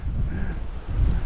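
Strong, gusty wind buffeting the microphone on a coastal cliff walk between Birżebbuġa and Marsaxlokk, Malta, a steady low roaring rumble with heavier gusts, no talk.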